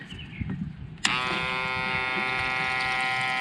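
A Harbor Freight electric transfer pump switches on abruptly and pumps diesel, giving a steady close electric motor whine with a strong buzzing hum that continues unbroken to the end.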